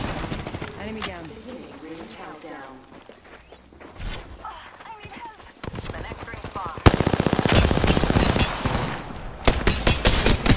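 Gunfire from a video game, with bursts of rapid automatic shots that build into a loud sustained volley near the end, plus footsteps and whooshes and bits of game speech and talk over the top.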